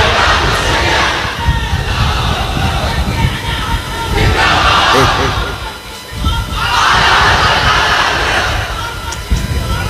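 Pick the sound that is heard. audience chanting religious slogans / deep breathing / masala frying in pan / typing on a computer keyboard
audience chanting religious slogans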